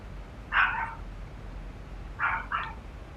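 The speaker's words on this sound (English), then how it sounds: "You can hear the dogs go crazy" Dogs at home barking excitedly as grandma arrives: one bark, a pause, then a quick double bark, moderately distant over a low steady background hum.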